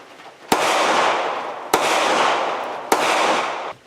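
Three loud rifle shots fired with a 10-round Pro Mag, evenly spaced about a second apart, each a sharp crack followed by a long rolling outdoor echo.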